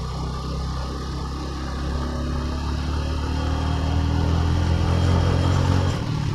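A 110cc motorcycle engine revs hard while climbing a hill road, a loud steady drone whose pitch rises gradually under strain, with wind and road rumble.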